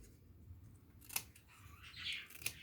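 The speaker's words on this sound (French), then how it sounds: "Et je vais venir avec mon ciseau." Scissors cut paper for a handmade invitation card: two crisp, quiet snips more than a second apart over a faint room hiss and a soft rustle of paper.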